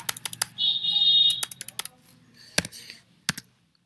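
Rapid bursts of computer keyboard typing as names are entered into an SQL editor, irregular clusters of close, crisp key clicks with short pauses between words and a brief tonal whine in the background.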